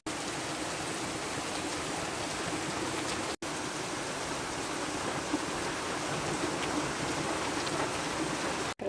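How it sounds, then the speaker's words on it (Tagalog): Steady, dense rainfall pours down without pause, a loud continuous hiss across the whole stretch with no voices. "Naulan dito ngayon, ang lakas ng ulan."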